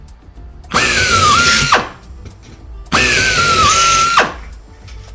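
A power drill bores into aircraft turtle deck parts during a homebuilt airplane build, two loud whining bursts of about a second each with a pitch that dips mid-run, separated by a short pause, close up.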